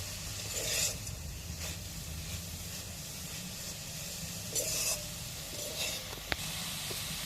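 Bitter gourd and leafy greens fry in a pan with a steady, close hiss and sizzle, swelling briefly now and then, with a small sharp tap near the end.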